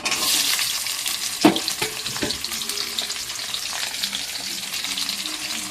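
Chopped onion fries in a hot wok with a loud, steady sizzle, broken by a sharp scrape of stirring early on and a few softer clinks.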